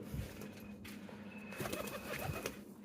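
Domestic pigeons kept for breeding coo softly and repeatedly, faint and fairly close, over a low background hum.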